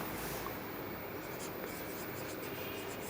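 Writing on a board during a class 12 maths lesson, heard as a soft continuous scratching and tapping of the writing tool, fairly faint and steady with no talking.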